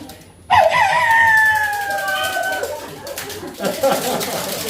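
A rooster crows once in a long, wavering call with a rising start and a drawn-out fading tail, fairly close and loud, followed by murmuring voices and room noise.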